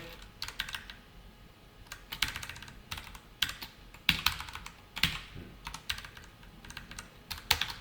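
Code is typed on a computer keyboard in quick, irregular bursts of crisp key clicks, close and fairly quiet, with short pauses between runs.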